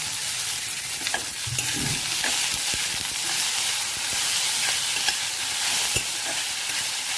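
Beet leaves sauté in a pan as a steady, hissing sizzle. Scraping taps of a spatula stirring the vegetable sound close by, with no talking.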